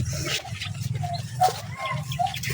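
Dogs out in a cornfield give short whimpers and yelps at moderate distance, scattered over a few seconds against a low rumbling background.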